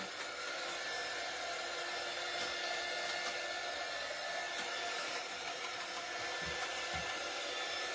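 A hair dryer blows steadily on wet chalk paint, a continuous loud whooshing roar that holds even for the whole stretch with no voices over it.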